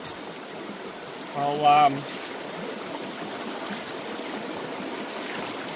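Creek water flows steadily at a gold-prospecting spot, a soft continuous trickling wash heard close by, with a voice briefly speaking over it.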